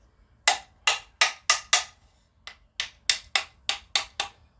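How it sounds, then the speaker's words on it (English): A small blacksmithing hammer taps sharply, eleven crisp metallic strikes in two quick bursts of five and six, close and clear with short decays and near silence between. "This has turned out to be such a useful little hammer."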